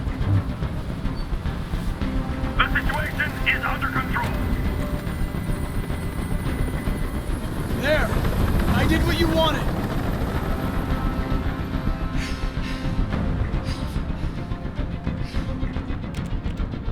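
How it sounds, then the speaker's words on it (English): A helicopter hovers close by during a hostage standoff in a video game, its heavy, steady low rotor rumble filling the whole stretch, loud and unbroken, while people speak over it. "I can't stand that noise anymore. Tell that helicopter to get out of here."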